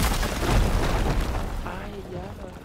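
A deep, rumbling blast bursts out in Horizon Forbidden West and slowly fades over a couple of seconds, with a person talking and shouting excitedly over it.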